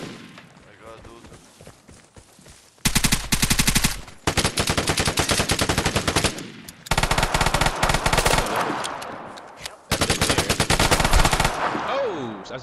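Bursts of rapid automatic gunfire fill a video game match, several long loud volleys with short gaps between them, with a player talking over some of the shooting.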